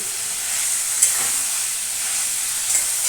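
Fish coated in spices sizzles and fries in a pan, a steady loud hiss filling the clip, with a couple of faint scraping stirs and no talking.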